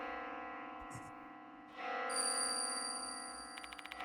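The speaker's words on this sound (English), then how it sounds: "Where's this bell sound coming from?" A faint ringing bell in the horror video game Death Mark 2 rises over a dark, droning ambient score with a high sustained tone, and quick chiming strikes come near the end.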